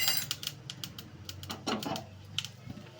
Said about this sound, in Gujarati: રાઈને ચટકવા દઈશું રાઈ ચટકી જાય એટલે બે ચપટી હિંગ મૂકીશું